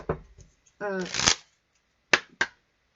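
Oracle cards are riffled and shuffled during a French-language astrology reading: one quick burst of shuffling, then two sharp card taps, with someone talking before the shuffle.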